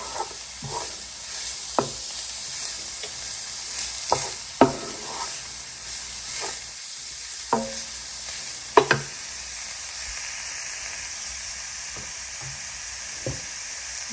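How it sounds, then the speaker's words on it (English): Carrots sautéing in a pot for borsch, a continuous hiss of frying punctuated by scattered spoon knocks and scrapes against the pot, close by with no talking. "So I will go first with my carrots, and then saute this for another 3 to 4 minutes."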